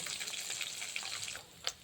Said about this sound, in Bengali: কই মাছ তেলে বসিয়ে দিয়েছি এবার একটু ভাজা হবে